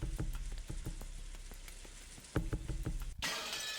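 Rain sound effect from the Umineko visual novel game, a steady patter of drops with scattered sharper taps, ending in a sudden wash of hiss, with no talk.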